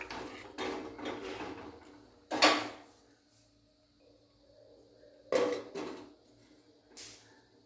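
Lid set over a pot of potato curry (aloo dum) on the stove, a few sharp metallic clanks and knocks with quiet gaps between, close and fairly soft.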